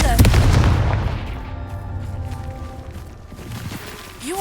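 A Confringo blasting-curse explosion in Hogwarts Legacy goes off with a loud, booming burst at the start, then a rumbling decay sits under game music and ambience.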